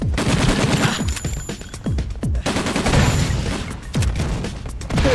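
Gunfire in the video game Breakdown: repeated sharp shots and bursts, loud and close, in uneven clusters with booming impacts between them.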